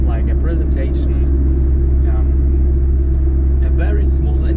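A 1992 Fiat Cinquecento 900 runs with a steady, loud low engine rumble that holds constant throughout, while a person talks over it.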